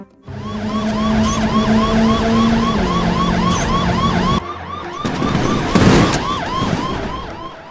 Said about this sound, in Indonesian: Mobil polisi.